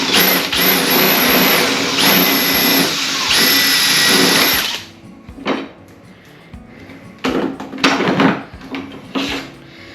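A power drill bores a 5/8 inch hole through one side of a PVC pipe for a DIY kayak crate rod holder. Loud, steady whirring runs for about four and a half seconds, then stops, followed by scattered clattering handling sounds.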